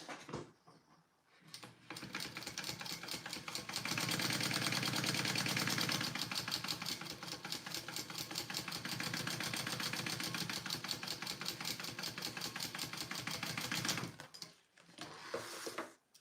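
A sewing machine runs steadily while basting together fabric pieces for a Hydro Pouch, a dense rapid stitching whir that holds for about ten seconds between short pauses, close and fairly loud with no talk.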